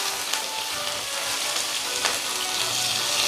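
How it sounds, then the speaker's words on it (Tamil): Tomatoes, green chillies, garlic and coconut fry in a pan with a loud, steady hiss and crackle that continues unbroken, and only faint stirring is heard within the sizzle. "இது எல்லாத்தையுமே நல்லா அப்படியே கிண்டி விடுங்க."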